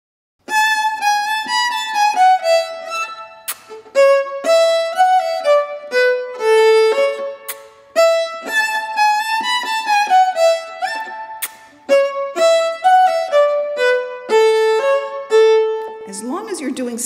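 A fiddle plays a lively polka tune with short bowed phrases, and brief kiss-like smacking sounds fill the rests between them, clear and close, with a final sweeping bowed flourish.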